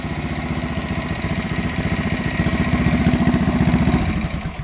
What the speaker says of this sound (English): This has got to be the best factory sounding SX350 motor I ever heard.